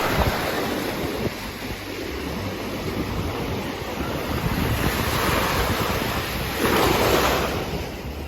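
Ocean surf rolling onto a Kauai beach with steady wind noise buffeting the microphone, a larger wave washing in near the end.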